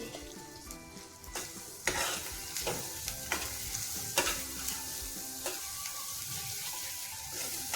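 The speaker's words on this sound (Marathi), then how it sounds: "मिश्रण तेल सोडत नाही तोपर्यंत चांगलं तेलामध्ये परतू द्यायचं." Spices sizzle and fry in hot oil in a home kitchen pan for misal pav, with a soft steady crackle broken by several sharp scraping stirs.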